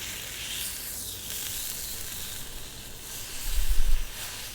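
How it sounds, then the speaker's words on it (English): Bacon dropped into molten tin sizzles with a loud, steady hiss as the fat vaporizes, close and continuous, swelling briefly with a low rumble near the end. "I think it's instantly vaporizing the fat in the bacon."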